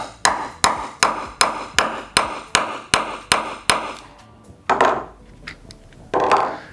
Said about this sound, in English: I'm just going to take a hammer and a couple hits.